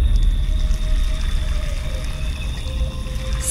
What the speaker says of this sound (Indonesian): aku mulai memenuhi ember dengan air keran yang ada di sana